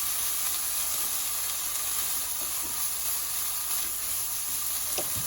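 Onions and other ingredients frying in a pan for a chicken and spinach curry, giving a steady, close sizzle with soft crackles throughout, no talking.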